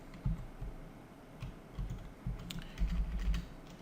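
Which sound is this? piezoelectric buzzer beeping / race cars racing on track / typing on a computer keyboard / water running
typing on a computer keyboard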